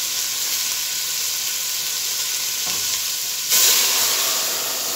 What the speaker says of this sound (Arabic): نسقط كده مع بعض كده الميه